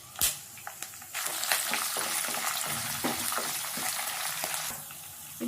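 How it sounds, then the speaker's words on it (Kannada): Four or five cut green chillies drop into hot oil in a pan, giving a sharp splash, then a loud, steady crackling sizzle with scattered pops that eases slightly at the end. "ಇವಾಗ ಒಂದು 4-5 ಕಟ್ ಮಾಡಿರೋ ಹಸಿಮೆಣಸಿನ್ಕಾಯಿ ಹಾಕೋತಾ ಇದ್ದೀನಿ"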